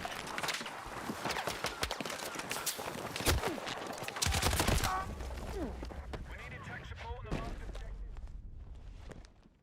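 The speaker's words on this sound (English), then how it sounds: "you're watching how it's kind of burst firing." Burst-fire shots crack in Battlefield 6, clusters of rapid gunshots over busy battlefield noise with distant explosions, while a voice talks over the action.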